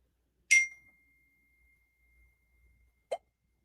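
Two short phone notification chimes, a bright ding with a faint ringing tail followed a few seconds later by a brief lower blip, heard alone in a quiet room.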